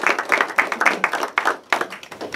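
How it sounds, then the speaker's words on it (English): A small audience at a chamber of commerce business awards event claps for an award winner, with close, irregular hand claps from a modest group and brief gaps in the rhythm. "So we will wait for them to come back and give them a clap."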